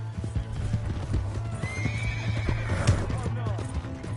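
Horse hooves clip-clop steadily in a galloping rhythm in Red Dead Redemption 2, with a loud neigh rising midway, all under shouted talk and game background noise.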